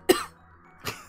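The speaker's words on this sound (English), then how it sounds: "I figured I should probably stop coughing on all of our stuff." Someone gives two short coughs, a sharp loud one followed by a softer one just under a second later, close up with quiet in between.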